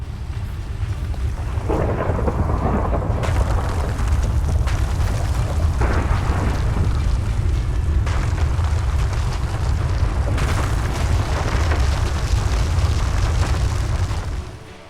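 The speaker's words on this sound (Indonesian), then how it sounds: "Dan ditambah lagi hujan beserta petir yang membuat suasana semakin mencekam." Minecraft thunderstorm on a volcanic Mount Merapi map, with steady heavy rain and repeated deep rolling thunder cracks building through the scene, loud and close, without any talking.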